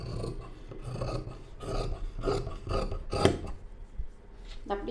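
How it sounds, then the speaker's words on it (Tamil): Scissors cutting blouse fabric along a marked line for a tailored blouse, giving a series of close, raspy snips and rubbing strokes in an uneven rhythm, with no talking. "இப்போ இதை அப்படியே கட் பண்ணி எடுத்துக்கலாங்க"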